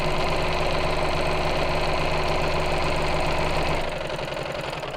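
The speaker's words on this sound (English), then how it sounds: "So let's sew around the edge here." A sewing machine stitches around the edge of padded fabric with a loud, fast, steady mechanical chatter close by. It slows and winds down near the end, and no one speaks.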